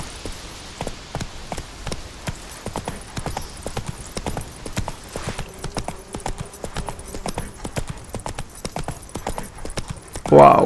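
Hoofbeats of a galloping horse in The Witcher 3 thud in a fast, regular clip-clop rhythm, with a brief louder burst at the end.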